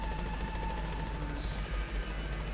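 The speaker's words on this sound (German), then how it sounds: "wenn der Hubschrauber mal landen würde, der braucht trotzdem lang" A helicopter arriving at Mother Base in Metal Gear Solid V: The Phantom Pain throbs with steady rotor chop and a constant engine drone, loud and sustained for the whole moment without speech.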